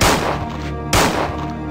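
Two loud, sharp gunshots ring out in Resident Evil 2 on PS1, each a sudden blast followed by a ringing decay, spaced about a second apart.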